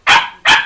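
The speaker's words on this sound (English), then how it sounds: "That dog!" A dog gives two sharp, loud barks in quick succession, close by.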